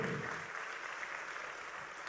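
Applause from an audience at an honouring ceremony for a former cable TV distribution manager, a quiet, steady wash of clapping heard from a distance that fades slightly toward the end.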